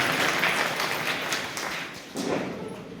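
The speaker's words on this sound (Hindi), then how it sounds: "जोरदार तालियों के साथ आप सबका स्वागत करता हूँ।" Audience applause welcoming district council members at a government schemes awareness event in a BDPO office, a steady broad wash of clapping that thins slightly, then swells again near the end.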